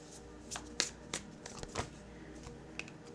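Tarot cards being shuffled by hand, a series of quick, crisp riffling snaps at uneven intervals, close and fairly quiet with no talking.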